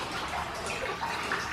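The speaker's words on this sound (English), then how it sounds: "I can hear water dripping." Water drips and trickles steadily inside the vaulted stone chamber of St. David's Well, an old holy well on Arthur's Seat in Edinburgh, a continuous splashy wash of water sound with no talking.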